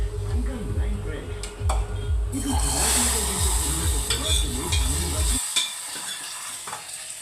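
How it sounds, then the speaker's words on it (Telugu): Spiced oil tempering for ridge gourd dal sizzles and crackles steadily in a pan, loud and close, with stirring and a sharp drop in the hiss near the end; a voice speaks over it. "ఇప్పుడైతే నేను తాలింపు వేసేసుకుంటున్నాను"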